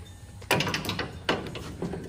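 A metric inner tie rod wrench is cranked during a rack install on a 2016 Toyota Tacoma. Three sharp, close mechanical clunks come at uneven intervals over a low background.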